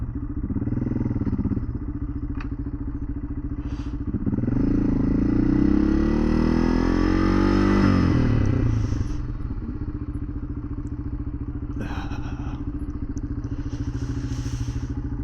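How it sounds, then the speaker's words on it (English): A dirt bike runs with a steady engine drone that swells as it revs and accelerates midway, then settles, heard close from the rider's position on a hot day with faint clattering. "But it's nice to have a dirt bike."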